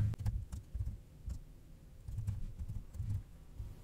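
Quiet key presses on a computer keyboard as a command is entered to set up an Angular development project, coming in short irregular bursts of taps with brief pauses between them.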